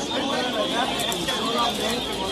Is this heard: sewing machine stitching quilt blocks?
no